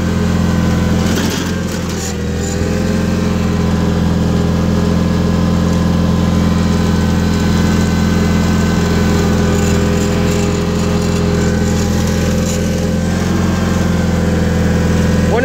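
A 1987 John Deere 316 lawn tractor engine runs steadily and loudly up close, a smooth, even drone that holds unchanged throughout with no talk over it.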